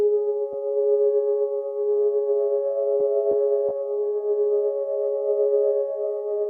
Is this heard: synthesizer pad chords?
yes